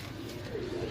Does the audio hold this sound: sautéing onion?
no